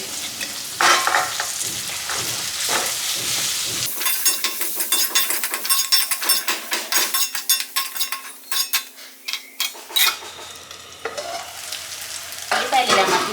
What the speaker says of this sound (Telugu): ఇప్పుడు ఇందులోనే పసుపు, అల్లం వెల్లుల్లి పేస్ట్ వేసుకొని వీటిని మెత్తగా మగ్గనిద్దాం.